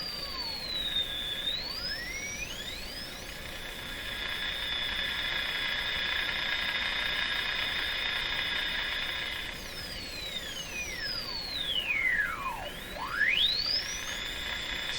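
A steady high-pitched whistle tone near 5,000 hertz from a General Electric CL541A ship radio holds over static hiss, while other whistles sweep up and down in pitch around it, as if the receiver is being tuned.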